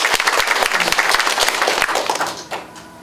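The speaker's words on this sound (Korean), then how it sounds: "자, 박수 한번 부탁드립니다." A crowd claps at an election campaign office opening ceremony, a dense burst of applause for about two and a half seconds that then thins out. The clapping is close and loud.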